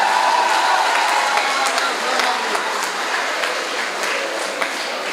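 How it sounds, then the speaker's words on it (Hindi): A large audience at a Hindi kavi sammelan comedy show in a university hall claps together in sustained, dense applause that stays loud and steady throughout. "फिर मिलकर ताली बजा दो, एक बार आनंद आ जाएगा।"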